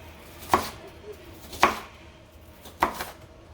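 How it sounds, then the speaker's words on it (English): A knife rough-chops about a third of a cup of onion on a board, three separate loud chops spaced roughly a second apart, alone with no talk. "It's about 1/3 of a cup of an onion, and I'm going to just do a rough chop"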